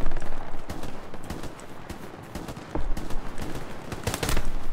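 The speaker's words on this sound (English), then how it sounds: "Oh, there's someone shooting at me, is it?" Scattered gunfire in the WWII shooter Hell Let Loose near hedgerows at the edge of the Omaha map, with sharp repeated shots and bursts of varying distance over a busy, constant battle background.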